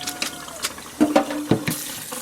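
Water runs and splashes through cooked ground beef being rinsed in a sink, with a soft steady trickle broken by a few brief sloshes close by.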